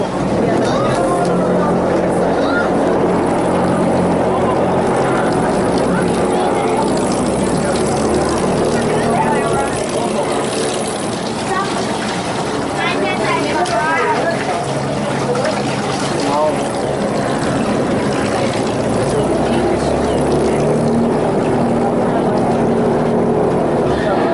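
A tour boat in the Everglades moves along with a steady, loud engine and propeller drone, while a guide talks over it throughout.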